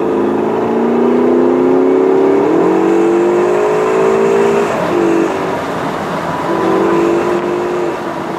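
A Ferrari California T accelerates on a test drive near Maranello, its engine note climbing steadily, dipping briefly at gear changes, then rising again, loud and close from inside the car.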